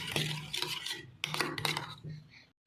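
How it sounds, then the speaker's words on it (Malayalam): Spoon stirring and scraping beaten egg with salt and chilli in a bowl for a bread omelette, quick clinking strokes in two bursts before stopping, close and fairly quiet. "ഇത് നമുക്ക് നല്ലോണം ഇളക്കി കൊടുക്കാം"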